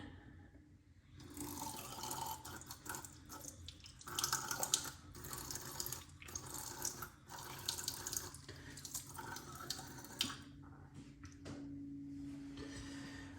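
Tap water running into a sink while the face is wet for a shave, splashing in bursts as hands scoop and rinse, close and fairly quiet, with brief pauses between pours.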